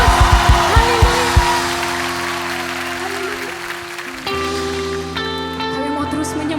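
A crowd at a youth worship concert claps and cheers for several seconds, the applause thinning as sustained music swells in behind it.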